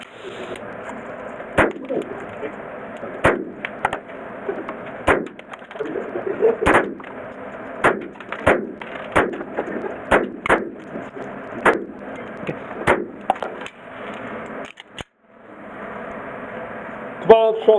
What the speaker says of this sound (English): 12 shots on the GLOCK.